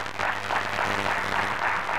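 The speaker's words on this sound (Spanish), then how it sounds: "Les vamos a pedir que se pongan de pie y los vamos a aplaudir" A seated conference audience applauds, a short burst of dense, continuous clapping at moderate loudness.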